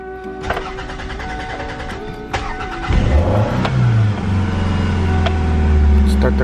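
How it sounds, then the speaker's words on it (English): A car engine cranks and catches roughly midway, then settles into a steady, loud idle and a sustained low rumble that holds to the end, during a tune-up with spray into the intake. "Start the car."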